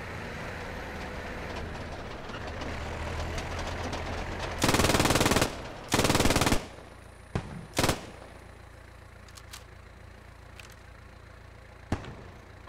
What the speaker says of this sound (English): This half-track is just destroying them.